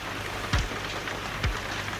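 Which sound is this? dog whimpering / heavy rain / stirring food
heavy rain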